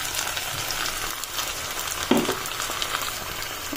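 Cumin and chili paste sizzle in hot oil with onion-tomato masala for Bengali bhetki fish kalia, a steady, close frying hiss with one brief knock near the middle.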